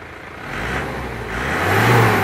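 An Isuzu Panther diesel engine revs up twice in quick succession, nearby and fairly loud, with the second rise climbing higher.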